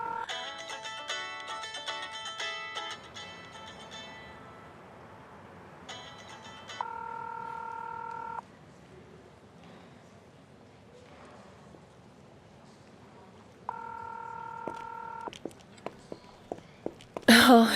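A phone is dialed with a short run of quick keypad tones, then an outgoing ring tone repeats in two spaced bursts, faint and close, with quiet background sounds between and a few sharp clicks at the end.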